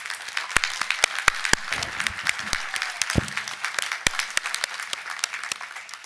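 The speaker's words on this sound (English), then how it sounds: "Will you please join me in a great big round of applause to recognize them?" An audience at a college commencement ceremony applauds steadily, many hands clapping densely with a few sharp close claps standing out.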